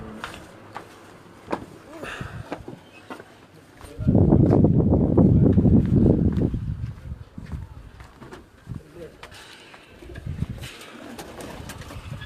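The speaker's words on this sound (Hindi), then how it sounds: "ये मेरे कबूतर है भैया, इधर आके दिखाएंगे।" Racing pigeons coo nearby in a loft in Quetta, with a loud burst of fluttering wings in the middle and soft background rustling.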